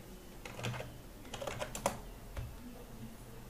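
Quiet computer keyboard typing, a short run of light clicky keystrokes over a couple of seconds, close to the microphone with faint background hum.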